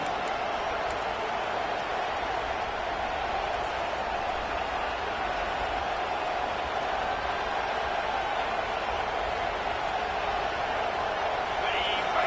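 A large football stadium crowd roars steadily during a third-down defensive stand in a Tulane versus South Carolina game, a loud, continuous wash of cheering with no breaks.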